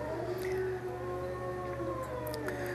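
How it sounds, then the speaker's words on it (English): Several dogs howl together in a long, drawn-out chorus, with wavering tones overlapping at moderate distance. The setting is outdoors in winter snow. "every time Shadow howled, Aidan listened"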